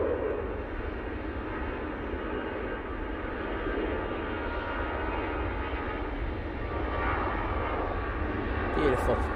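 Continuous roar of an Emirates airliner at Manchester Airport, a broad steady engine rumble heard from a moderate distance and holding level throughout, alone without talk.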